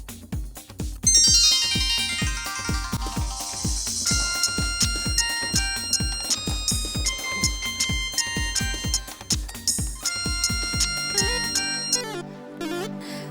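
An incoming call sets off a phone ringtone, a loud, close melodic tune that repeats steadily for about twelve seconds before it stops, with no voices over it.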